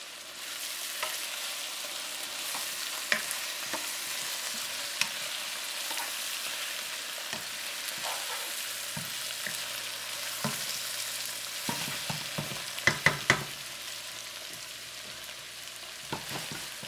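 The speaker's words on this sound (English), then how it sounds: "it's about a minute, so you should see them boiling" Chicken thighs bubble and sizzle steadily in an onion garlic sauce in a pan, with occasional clinks and scrapes of a utensil against the cookware.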